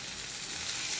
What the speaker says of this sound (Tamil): இந்த பாருங்க, தக்காளி பழம் போடுறேன்.